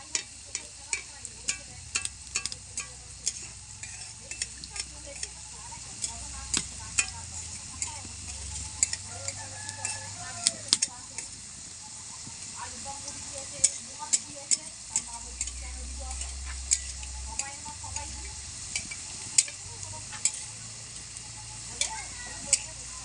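Gulab khaja pastries fry in oil, a steady close crackling sizzle with frequent sharp ticks and occasional spatula scrapes and low clunks as the oil is gently stirred.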